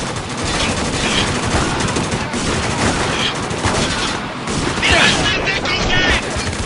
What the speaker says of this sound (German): Ja, ihr müsst auch ein bisschen ballern.